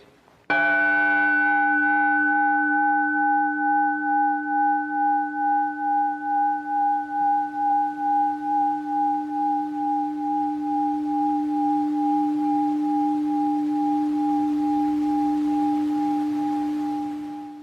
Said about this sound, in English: And Alan's hitting that gong or chime, ringing that bell